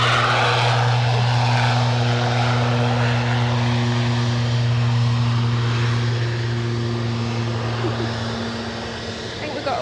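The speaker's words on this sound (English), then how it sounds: "You can see that British Airways A321 is just about to roll past us." A British Airways Airbus A321 airliner rolls past on the ground, a steady close engine hum with strong low tones throughout, easing slightly near the end.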